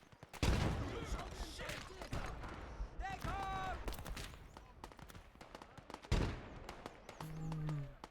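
A grenade bursts in the World War II shooter Gates of Hell amid a loud, chaotic firefight, with sharp blasts and rattling gunfire rising and falling across the clip while voices talk throughout.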